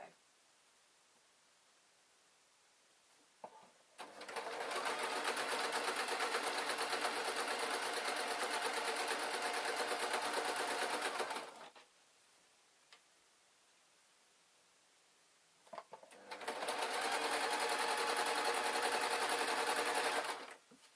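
Sewing machine stitching a Downton Abbey style dress bodice, two sustained runs of steady whirring with a quiet pause between, close and fairly loud.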